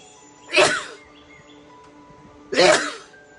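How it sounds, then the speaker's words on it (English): Two sharp sneezes from a woman indoors, about two seconds apart, each a loud, brief noisy burst above a quiet room hum. "Oh, I'm gonna sneeze."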